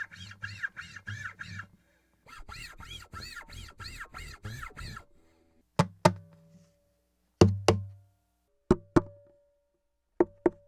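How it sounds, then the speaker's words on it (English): Knocks and slaps on an acoustic guitar body with string noise, recorded through a DI: a rhythmic run of strummed, scratchy hits followed by several isolated sharp knocks that ring briefly and decay, close and dry. "the DI is picking up string noise and percussive sounds from the body"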